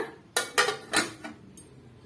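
A lid set down on a bowl of milk bun dough gives a few close, light clinks and clatters in quick succession, followed by a faint final tap, with no talk.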